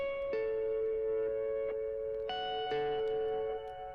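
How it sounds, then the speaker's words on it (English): Guitar notes passing through a reversing delay effect from a pedal board, swelling tones repeating in layered echoes with a reverb tail, alone and steady throughout. "That reversing sound."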